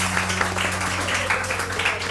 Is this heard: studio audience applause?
yes